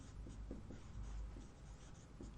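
A few short scratchy strokes of writing on a classroom board during a physics lesson, faint against a steady background hum.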